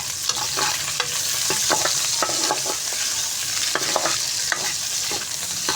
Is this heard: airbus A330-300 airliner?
no